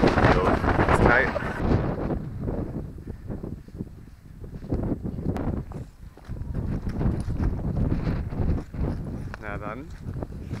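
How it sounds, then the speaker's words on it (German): Wind blusters across a Danish beach near sand dunes, rumbling against the microphone in heavy gusts that swell and ease throughout, with people talking over it. "Wie immer ist der Wind auch mit am Start."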